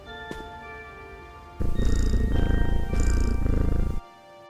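A cat purring as it is petted in the puzzle video game Viewfinder, a steady, close rumbling purr that begins abruptly, runs for a couple of seconds with a short dip midway, then stops.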